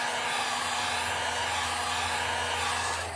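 Heat gun heat-setting paint on a custom-painted crackle shad fishing lure, a steady loud fan-and-blower roar holding without a break throughout.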